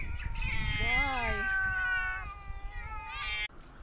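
A cat meows several times in a row on a walk outdoors, with long drawn-out cries rising and falling in pitch like a caterwaul. The cries are fairly close and loud over faint background noise.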